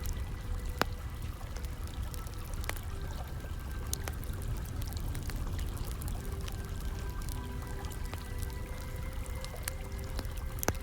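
Hot spring water flows in a steady, close wash with light splashy clicks, in a quiet winter forest at night.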